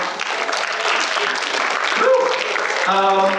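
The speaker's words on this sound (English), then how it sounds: "Big round of applause for her." Audience applause for a participant, a broad clatter of clapping that holds steady and then thins as a voice begins speaking over its tail.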